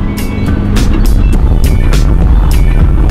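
A cheap Mazda Miata drift car is driven hard, its engine rumbling loud and close under a dense low roar, with repeated sharp bursts of noise cutting through at irregular intervals; no voices.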